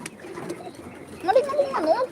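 Pigeons on a home farm give a brief throaty coo near the end, rising out of quiet, muffled background noise at moderate loudness.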